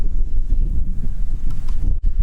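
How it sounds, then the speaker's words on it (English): Wind buffets the microphone outdoors at a shooting range, a loud, low, gusty rumble that rises and falls unevenly throughout, with no speech. "It's a little windy today, as you can see"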